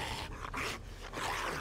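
A dog in the zombie survival game 7 Days to Die lets out harsh, rough barks and growls in quick bursts, loud and close, set over a low game rumble.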